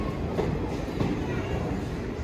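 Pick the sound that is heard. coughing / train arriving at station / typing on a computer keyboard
train arriving at station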